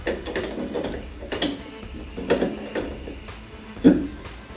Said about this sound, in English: it's easier to use a crescent wrench instead of the channel lock to finish this off